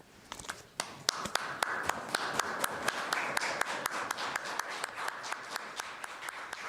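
Steady applause with distinct individual claps greets a newly sworn-in Canadian Minister of Finance and Intergovernmental Affairs, Dominique Leblanc, at a ceremony, sustained at moderate level throughout.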